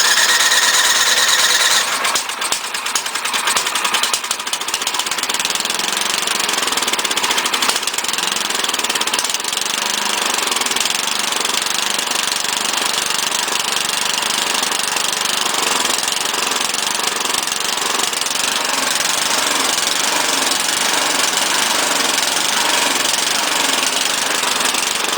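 A 12-year-old small engine on a mower or snow blower runs rough and uneven, needing carburetor cleaning; a loud, continuous sputtering drone close by for the whole stretch, with no talking.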